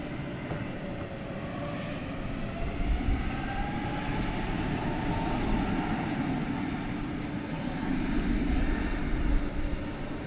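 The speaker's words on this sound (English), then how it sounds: "Spirit Airbus A321neo going to the City of Angels, Los Angeles." A Spirit Airlines Airbus A321neo jet at DFW Airport gives a broad, steady roar that swells slightly toward the end and fills the whole clip with no voices.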